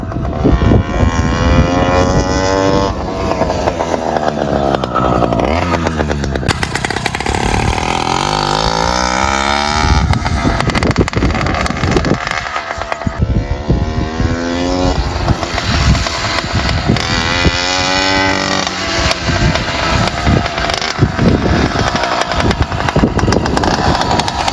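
A 20-inch gas bike with an expansion chamber exhaust runs loud and close, its small two-stroke engine revving up and down in repeated rising and falling sweeps throughout.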